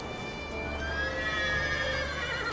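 A horse whinnies in The Witcher 3, a long, loud, wavering neigh rising and falling over game ambience.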